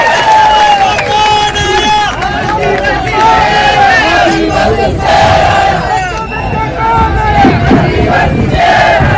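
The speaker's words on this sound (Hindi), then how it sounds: "उनको जोरदार ताली के साथ स्वागत करो दोस्तों" A large crowd at a political party rally of the Bharat Adivasi Party cheers and applauds in welcome, a dense continuous roar of clapping, shouts and voices that stays loud throughout.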